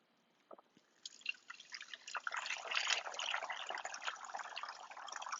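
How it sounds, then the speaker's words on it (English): Mineral water poured through a funnel into a container, starting with a few drips and then a steady splashing trickle that carries on to the end, close and alone. "So now to the water. And for that, I'm going to need the funnel again."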